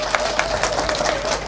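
A crowd applauds the health cabinet secretary at a hospital event, with dense, continuous clapping that stays fairly loud through the short stretch and mixes with some crowd murmur.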